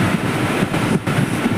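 A Mumbai local train rolls along with a loud, steady low rumble and rattling carriage noise, heard from inside a moving coach.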